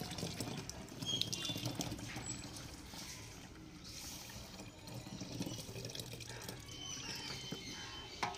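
Liquid poured and strained through a strainer while making pigeon black water medicine from boiled water, a steady trickling flow running throughout at moderate level with a faint voice in the background.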